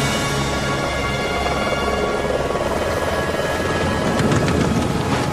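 Steady, loud helicopter rotor drone with a constant thrumming engine whine, continuous throughout and growing slightly louder near the end.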